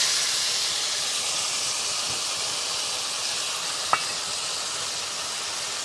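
Ground mustard and cumin spice paste, thinned with a little water, sizzles in a wok while fish cooks. A steady, loud hiss fills the whole stretch, broken only by a single brief clink of a utensil.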